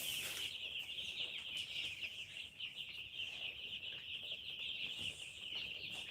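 Chickens cluck softly at a village homestead. The sound is faint and sits under a steady high-pitched insect whine, with a few quiet chirps and no talking.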